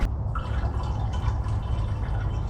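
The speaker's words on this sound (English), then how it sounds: "top the radiator off with fill the radiator up with water" Water pours steadily into a car radiator during a 318 Magnum V8 swap, a continuous close gurgling wash that runs loud and unbroken throughout.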